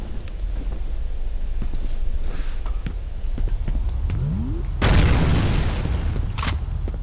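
A remote bomb detonating in F.E.A.R. Extraction Point: a sudden heavy boom with a burst of noise that rings out over steady game ambience and scattered small clicks and thuds.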